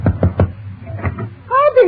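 Three sharp knocks on a door, then two more, a radio-show sound effect, close and clear, followed by a voice speaking.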